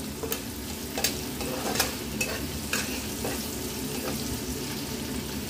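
Steady sizzling of onions, beans and carrots frying in a pan, with a few sharp stirring scrapes breaking through at intervals; no voices.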